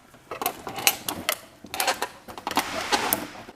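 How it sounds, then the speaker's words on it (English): Polish being scraped off a fiberglass body kit part with a hand tool, a run of quick irregular scratchy strokes up close, fairly quiet, with no talking. "Basically, it's just all you do is just scrape it off"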